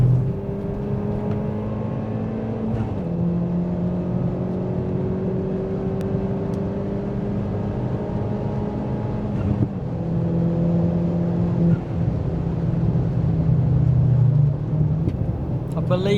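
A Ford Fiesta ST180 tuned to Stage 2+ revs and accelerates on the Snetterton race track during a track day. A loud, droning engine note climbs steadily, drops at gear changes, then climbs again.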